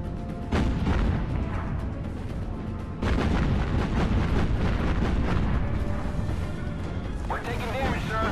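Naval guns and artillery fire in the video game Battlestations: Pacific, a dense, continuous roar of heavy cannon blasts and rumbling explosions that swells louder partway through and stays loud to the end.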